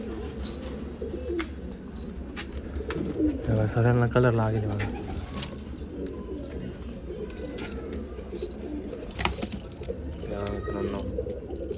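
Imported UAE pigeons coo in a loft at Nashik Road, low repeated calls running under a voice, with a burst of stronger cooing and some jangling rustle midway.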